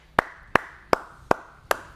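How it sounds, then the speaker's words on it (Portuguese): Five sharp hand claps land alone at a steady, even pace, each a crisp, fairly loud slap with a short tail. "bater palmas aqui"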